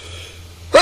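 A single sharp sneeze bursts out at the very end of a quiet stretch, loud and close, following a low steady hum in the background.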